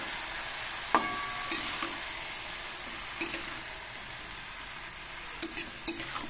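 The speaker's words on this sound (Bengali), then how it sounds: "এবার শাকটা আমি ভালো করে নেড়ে নেব।" Red spinach greens are stirred in a frying pan with a little water, sugar, salt and turmeric: a soft, steady sizzle broken by a few sharp clinks and scrapes of the utensil against the pan.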